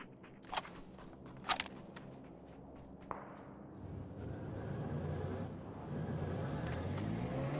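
A vehicle engine starts in PUBG on the snowy Vikendi map after a few sharp clicks, then rumbles steadily and grows louder as the car gets moving.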